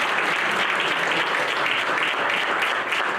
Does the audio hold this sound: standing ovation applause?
yes